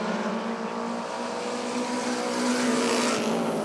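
Racing engines whine at a high, sustained pitch as race cars roar past together in single file on an oval track at Rockford Speedway, holding a steady drone throughout.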